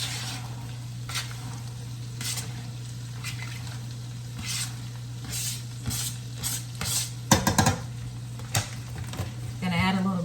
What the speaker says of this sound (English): Got the carrots and the onions cooking nicely.